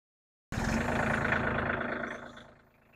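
A tractor engine starts abruptly and runs with a steady, rough diesel-like drone, loud and close, then fades away toward the end as it moves off; no talking.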